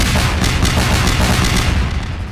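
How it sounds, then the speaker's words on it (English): Loud, dense video game gunfire rattles nonstop as a rapid burst with no pauses, fading slightly toward the end. "you can also shoot people, which is my favorite part"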